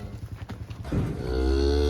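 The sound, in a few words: cows and calves in pens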